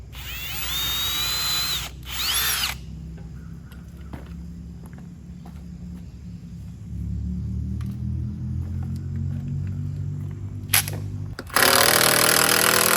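Power drill driving a lag bolt into a wooden post for a sawmill shed, giving short bursts of whining motor at the start and end, with a lower grinding run in between and occasional handling clatter nearby.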